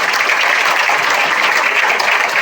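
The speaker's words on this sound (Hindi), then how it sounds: "इसलिए अपने आप के लिए ताली बजाइए सोच के" An audience at a student award ceremony breaks into dense, continuous applause, loud and sustained throughout.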